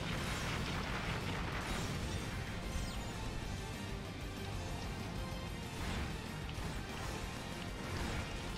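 Multi blast weapon attack in Gundam Breaker 3, a dense barrage of crashing explosions and booms that stays continuous and loud throughout with no speech.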